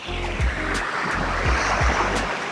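Ocean surf washes in a gentle, continuous rush, with waves swelling and receding in a slow rhythm beneath low, sustained tones in a calm relaxation soundscape.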